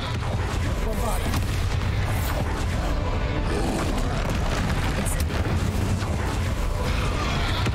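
A Bombarda spell exploding in the video game Hogwarts Legacy, heard as a dense, loud, rumbling blast with booming low end that carries on continuously, mixed with game effects and a voice.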